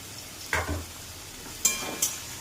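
Carrots, capsicum, tomato and potato fry softly in a pan under a steady low sizzle, broken by three short scraping stirs of a utensil, the first at about half a second and two more near the end.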